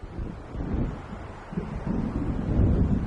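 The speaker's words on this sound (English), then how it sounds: "It seems there's a storm coming." Strong wind rushes and gusts while low thunder rumbles underneath as a storm approaches in the Alan Wake video game, a continuous, dense roar with no talking.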